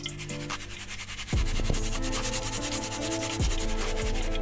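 Freshly fried crispy chana dal nimko rustles and crackles steadily as it is tossed on tissue paper, a close, continuous dry scratching with a few louder shuffles.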